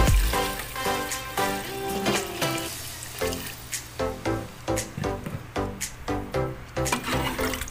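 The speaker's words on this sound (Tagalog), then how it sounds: "lagyan na natin ng sabaw tubig yun" Water pours and splashes into a cooking pot for beef pares broth, a steady sloshing stream with rhythmic gurgling pulses running for several seconds, close and fairly loud with no talking.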